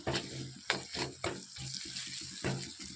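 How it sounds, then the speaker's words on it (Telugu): Curry leaves hit hot frying oil and crackle in sharp, close bursts, settling into a steady spitting sizzle. "నెక్స్ట్ నేను ఇక్కడ కరివేపాకు యాడ్ చేస్తున్నాను"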